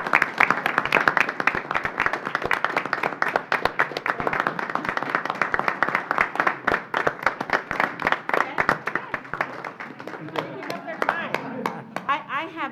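People at a county board of commissioners meeting clap after a vote, with many sharp individual claps close by forming a crisp, uneven round of applause that thins out toward the end, with some voices underneath.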